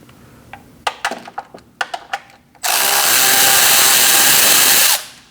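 On a 2020-2027 Toyota Corolla, a few close clicks and knocks of handling a 10mm socket lead into a loud, continuous power tool whir lasting about two seconds as a fender liner bolt is removed, then winding down.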